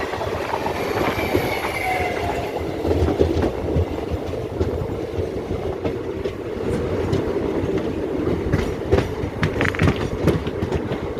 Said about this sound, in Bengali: ঢুকে পড়লো বন্ধুরা গয়া হাওড়া এক্সপ্রেস ব্যান্ডেলের চার নম্বর প্ল্যাটফর্মে